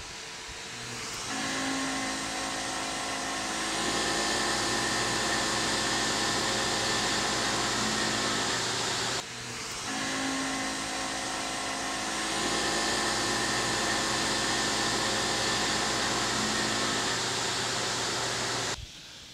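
A CNC milling machine spindle cuts metal with coolant running, a steady whirring hum with a continuous hiss that holds through two long passes, broken by a brief dip in the middle.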